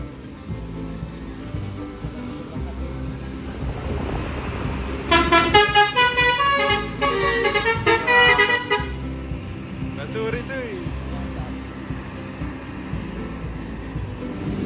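An MPM intercity bus bound for West Sumatra pulls out with a loud, melodic multi-tone horn sounding for several seconds over engine rumble and nearby voices.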